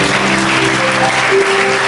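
A church congregation claps loudly in a brief burst during a sermon service, dense and close, with sustained instrumental tones beneath.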